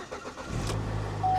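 A Buick Cascada that had sat parked for a year, with corrosion under the hood, cranking and catching into a low, faint idle close by, all within a moment.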